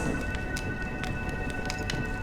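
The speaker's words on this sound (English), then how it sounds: "When will this rain ever stop?" Steady rain pours down in Honkai: Star Rail, a dense, even hiss with scattered brighter drop ticks and a low rumbling bed, continuous and fairly close with no voices.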